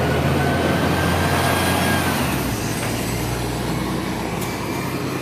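A DVG line 509 tram pulls away from the Kolkmann stop in Mülheim, a steady loud rail rumble with low motor drone and faint high squeal, rolling continuously without voices.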